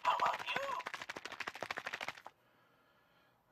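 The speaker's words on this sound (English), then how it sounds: "So I'm just mixing up my mix to see if I get it all mixed well." Rapid scraping, clacking strokes of a utensil stirring thick gummy candy mixture in a bowl from a gummy maker kit, close and steady for about two seconds, then stopping.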